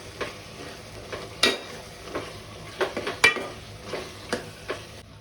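A spoon stirs garam masala, red chilli, turmeric and coriander into chicken gravy in a pan, with a soft sizzle underneath and several distinct metallic scrapes and clinks spaced irregularly, close and fairly quiet.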